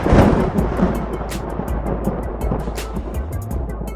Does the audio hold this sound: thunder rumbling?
yes